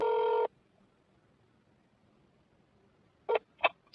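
A phone dialing a call to Usha: a short steady electronic tone, then near-silence, then two brief beeps close together near the end.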